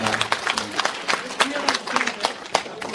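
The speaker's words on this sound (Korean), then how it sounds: "박수 부탁드립니다." Audience clapping for visiting members of a Mexican Korean Catholic community at a pilgrimage lecture at the Guadalupe shrine, a dense, moderately loud patter of many hands with sharper individual claps, no one speaking over it.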